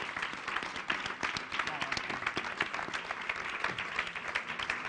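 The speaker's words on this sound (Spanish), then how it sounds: "Os pido un aplauso para los cuatro." An audience applauds four panel guests at a public event, with dense, sustained clapping from many hands filling the room at steady volume from start to finish.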